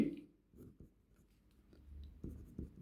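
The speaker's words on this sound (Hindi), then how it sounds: "हम इसको लिखेंगे" Pen writing out the next step of a trigonometry calculation, heard as a few faint, short scratching strokes separated by pauses, close but quiet, with no talk.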